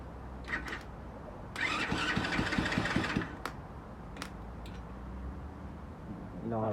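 An X6 pocket bike engine is cranked with the choke held. A brief buzzing, sputtering burst of about a second and a half catches and dies among scattered clanks and rustles, with people nearby in a quiet outdoor space.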